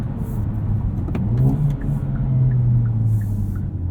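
A 2023 performance car, a Honda Civic Type R or Hyundai Elantra N, is driven with its engine revving, a close, sustained mid-pitched engine note rising and holding under acceleration, heard from inside the cabin without speech.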